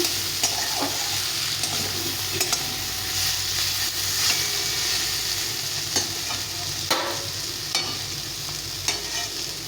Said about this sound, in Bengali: হয়ে গেছে বেগুন তেল পটকাতে ভাজা